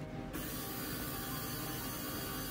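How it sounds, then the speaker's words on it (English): A KitchenAid stand mixer with a dough hook attachment mixing dough, its motor and gears grinding in a dense, steady mechanical whir with a rattling, ratchety texture, loud and close throughout. "So next we will put it in a KitchenAid mixer or a mixer with"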